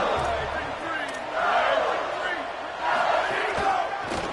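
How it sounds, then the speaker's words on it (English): A football stadium crowd roars, yelling and screaming as the Tigers face a short-yardage second down. The loud, dense roar surges twice, with a voice faintly underneath. "they are on their feet, yelling, screaming"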